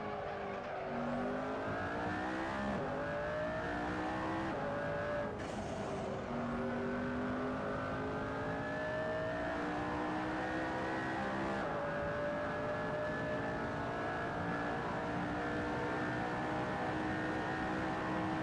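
A race car engine in Assetto Corsa drones steadily while driving, its pitch rising and falling gently with throttle and shifts, a smooth continuous mechanical tone with no talk.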